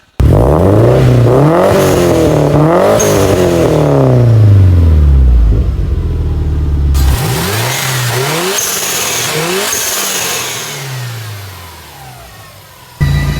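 A modified Subaru WRX STI engine revs repeatedly, climbing and falling in sharp bursts before settling into a loud idle and a few more blips, close and alone with no talk.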